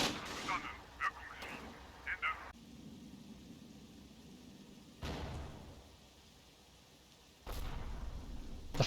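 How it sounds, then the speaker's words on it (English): Mortar rounds landing in the Combat Mission war game, heavy booming impacts arriving in several separate bursts with low rumbling tails between them. "The first mortar rounds start to fall and they're wildly off target."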